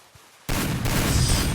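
Free Fire video game gunfire for headshots: a sudden loud burst after a near-silent moment, sustained dense shooting noise continuing for about a second.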